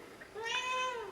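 A Korat cat gives a single short, close meow rising and falling, with faint soft rumbling before it; no talking.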